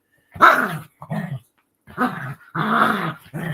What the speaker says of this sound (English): That's my dogs you're hearing in the background.